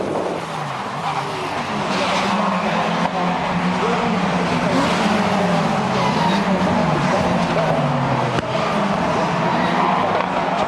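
Classic race cars, a BMW among them, roaring around the Cadwell circuit, engines droning loud and steady with shifting pitch as they pass, while a commentator talks over the constant noise.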